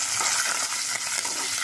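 Chopped green chillies hitting hot oil with roasted peanuts and cashews for South Indian lemon rice, giving a steady, dense sizzle with faint stirring clicks, close and continuous throughout.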